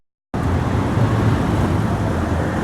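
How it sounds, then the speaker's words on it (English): Toyota limousine rolling through the Ginza district of Tokyo, a steady, close road rumble with low engine drone and street traffic noise, continuous and without talk. "If you want to be chauffeured around the Ginza, you have to go in style, in the rather vulgar looking Toyota limo."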